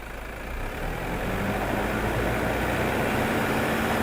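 A Toyota Fortuner or Mitsubishi Pajero engine holds a steady raised rumble, swelling gently and staying loud and close for the whole stretch.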